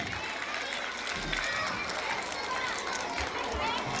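Steady, dense applause from an audience at a children's school event, continuous and fairly loud for the whole stretch, with a faint crowd murmur underneath.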